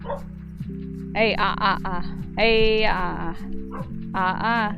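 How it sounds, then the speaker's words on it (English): A backyard dog barks and yips in bursts, woofing at something outdoors while a person calls out over it, with a low steady hum running underneath. "who's barking? What you barking at?"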